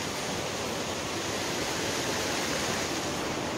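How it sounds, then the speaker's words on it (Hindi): Rainwater pours down like a waterfall at a hilltop temple of Baba Neem Karoli, a steady, dense rushing hiss that holds evenly throughout, with no voices. "यहाँ पे देखिए बारिश का पानी आ रखा है पूरा, अच्छा लग रहा है व्यू, झरने जैसा लग रहा है यहाँ पे।"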